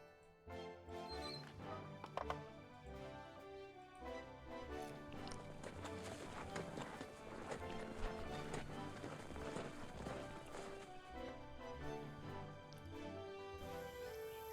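Horse hooves gallop in Nancy Drew: The Secret of Shadow Ranch, a quick rhythmic clip-clop running under game music through the whole stretch, moderately near and fairly quiet.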